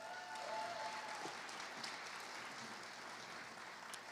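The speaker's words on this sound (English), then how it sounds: "That deserves a round of applause." Sustained crowd applause fills a school district education awards ceremony, a steady dense clatter of many hands clapping throughout, moderately distant in a large hall.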